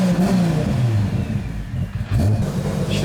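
A Toyota Supra with a 2JZ engine runs close by, its exhaust burbling loudly and rising in two quick revs, the second after a short dip in throttle.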